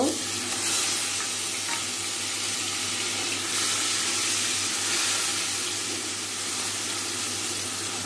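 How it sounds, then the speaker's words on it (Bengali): Onion paste made from large onions fries in a pan with already-fried spices for a prawn malai curry, a steady, even sizzle that runs unbroken for several seconds with no talking. "পেঁয়াজটা একটু ভেজে নেব।"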